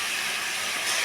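Spice paste sizzles steadily in hot oil in a vegetarian taro-and-soybean dish, a continuous close hiss with no pauses and no voices.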